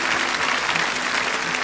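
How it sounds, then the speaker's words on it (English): A large crowd claps steadily for a songwriter at a live Irish ballad concert in Dublin's National Stadium in 1982, a loud, even roar of applause throughout. "I'd like you to give him a big round of applause."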